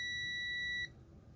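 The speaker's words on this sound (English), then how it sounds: "a new meter that beeps louder and faster." A multimeter's continuity beep, steady and high-pitched, sounds for under a second while testing power supply wires, then cuts off, leaving quiet room tone.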